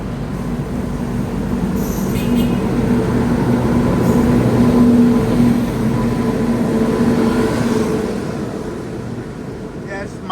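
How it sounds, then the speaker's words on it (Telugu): The Madgaon Rajdhani Express, running Hazrat Nizamuddin to Madgaon, rolls past as a loud, sustained rail rumble with clattering wheels that swells mid-pass and eases off, while voices talk nearby. "నాకు తెలిసి మడ్గాన్ రాజధాని ఎక్స్ప్రెస్ అనుకుంటున్నాను ఆ ట్రైన్."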